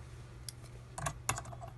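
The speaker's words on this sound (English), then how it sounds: "I'm going to get my scissors" Sharp little snips of scissors cutting off tied fibers on a damselfly fly-tying pattern, two or three quiet close clicks over a low steady hum, no talking.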